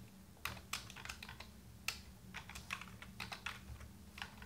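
Quiet, irregular clicking of keys on a computer keyboard, in short bursts of rapid keystrokes with brief pauses between, against a faint low hum.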